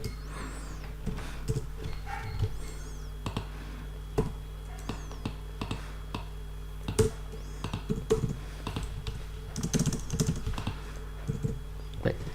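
A computer keyboard typing code: irregular bursts of close, crisp key clicks over a low background hum, no talk.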